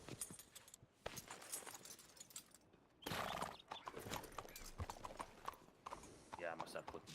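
A horse's hooves clip-clop steadily in a ranch or farm setting, with a faint neigh and jingling tack, heard under nearby talk.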